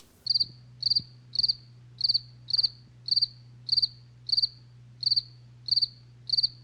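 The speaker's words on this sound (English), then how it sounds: "cricket noises" A cricket chirps in a steady, regular rhythm, a dozen evenly spaced high trilling pulses, loud and clear over a low constant hum, with no talking.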